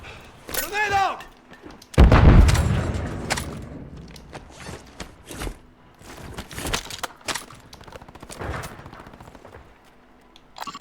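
Call of Duty Warzone Plunder match: a grenade blast booms heavily, surrounded by bursts of gunfire and thuds, loud and near, with voice callouts from the game in between.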